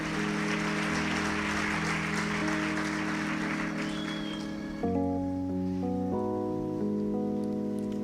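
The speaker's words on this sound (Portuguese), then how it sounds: "Vamos dar um melhor aplauso ao Senhor pela vida dessas pessoas" A church congregation applauding together, a dense wash of clapping that fills the room at the start and then thins out as sustained organ or keyboard chords take over, no speech over it.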